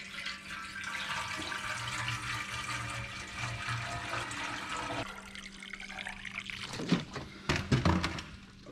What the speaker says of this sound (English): just fill the rest of the way up with regular old tap water.